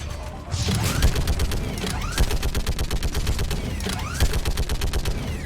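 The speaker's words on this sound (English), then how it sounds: "one of the coolest sounding guns in a video game" Rapid weapon fire in the video game Mass Effect 3, with dense bursts of sharp, bassy shots repeating in quick rhythmic volleys, loud and close, along with mechanical clanks.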